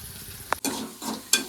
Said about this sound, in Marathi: आपली फोडणी तयार झाली एक नंबर पैकी